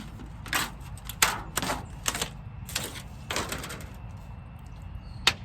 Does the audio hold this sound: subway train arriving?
no